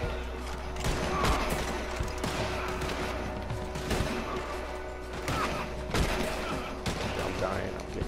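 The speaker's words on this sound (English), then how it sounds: "I'm getting shot." Gunfire striking the player in Red Dead Redemption 2 Online, with repeated sharp cracks and thuds scattered through a dense, rumbling battle din at moderate loudness.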